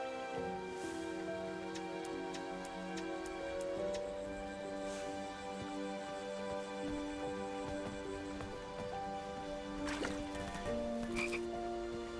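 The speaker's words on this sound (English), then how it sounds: "I was too slow to catch those frogs." Frogs croak continuously in the King's Quest (2015) video game, a dense layered chorus of steady croaks and drawn-out tones with a few brighter chirps, loud and without talk.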